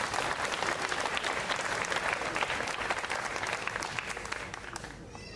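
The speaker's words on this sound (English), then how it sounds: "Come on, another nice round of applause." A crowd at a civic band summer concert claps in a dense, steady round that stays strong and then thins slightly toward the end, with no one speaking over it.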